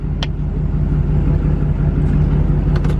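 A Duramax diesel truck on 40-inch tires rumbles loudly and steadily while backing up off-road, a deep continuous low drone close by with a few faint sharp clicks or squeaks over it.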